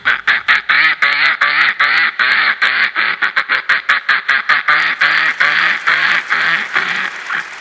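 A mimicry artist on a stage comedy show voices a duck, a long rapid string of nasal quacks in steady rhythm, loud and close, with no other talk.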